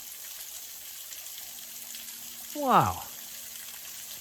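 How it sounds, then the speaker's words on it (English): Mountaineer Falls, a modest waterfall seen from a mountain trail, gives a steady, even rush of falling water throughout, with one brief spoken exclamation rising over it midway. "here are Mountaineer Falls"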